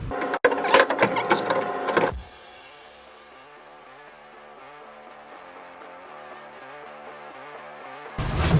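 A 1946 Chevy COE truck engine idles with a steady, even mechanical chug, framed by louder clattering bursts at the start and end.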